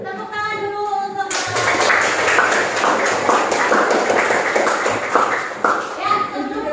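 Schoolchildren clapping together in a classroom, a dense burst of applause that starts suddenly and keeps going for several seconds after a teacher's voice, with children's voices mixed in.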